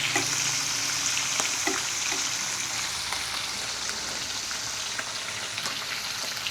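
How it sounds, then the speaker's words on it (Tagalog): Steady bubbling and sizzling from food boiling in a pan on the stove, continuous and fairly loud, with faint clinks now and then; no voices. "kumukulo na."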